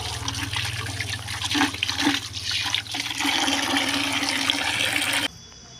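Freshly harvested radishes are washed under running water. A loud, steady gush splashes close by for about five seconds and then stops abruptly.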